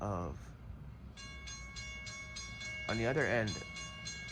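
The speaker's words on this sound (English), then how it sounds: "let me pause because the train's coming" A train passes with a rolling rumble while a repeated ringing bell and a brief horn blast sound nearby, and a voice speaks at the start.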